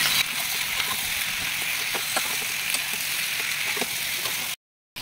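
Fried onions dropped onto meat sautéing in a pot for homemade biryani give a steady close hiss of sizzling with small crackles and pops throughout, no talk over it, and it cuts out abruptly near the end.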